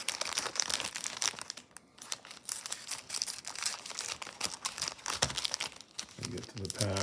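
Plastic wrapper on a Topps baseball card rack pack crinkles and tears close by in a series of sharp, uneven crackles, with some talking mixed in.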